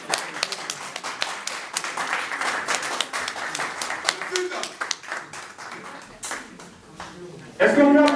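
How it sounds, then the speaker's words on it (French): Audience applause welcoming Werrason, the Congolese star, at a Paris press conference, a dense run of claps lasting throughout with voices mixed in and a louder cheering burst near the end. "On va tous accueillir sur un tonnerre d'applaudissements Monsieur Weranson, le roi de la forêt"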